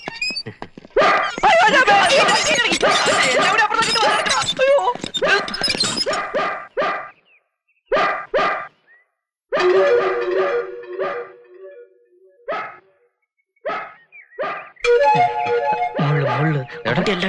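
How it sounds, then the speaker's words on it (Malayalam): A dog barks repeatedly in short bursts, some loud and close, with pauses between, and people talk over part of it. "പട്ടി കടിക്കോ? ഒരയ്ക്കുന്നോണ്ട് ചോദിച്ചതാ."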